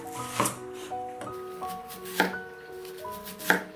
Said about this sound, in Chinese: 去皮的洋葱再切成圈儿